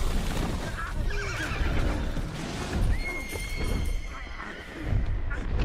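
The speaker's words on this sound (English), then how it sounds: "Oh, that's the horse." A horse whinnies loudly in a video game over a dense, busy background of hoofbeats and rumbling noise, with a second higher neigh trailing off later.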